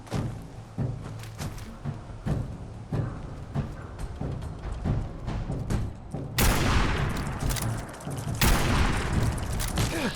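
Gunfire in Fallout 4, a steady run of repeated shots and booms throughout, growing louder and harsher toward the end with heavy close bursts.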